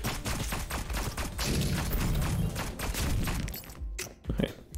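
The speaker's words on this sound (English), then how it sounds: "he just chucks grenades everywhere" Rapid bursts of blasts and gunfire from the Neon Abyss video game, grenades going off in a loud, dense barrage that thins near the end.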